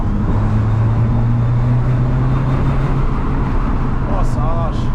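A Renault Megane RS accelerates hard, its engine a loud, steady drone heard from inside the cabin, with a rising tone toward the end and people talking over it.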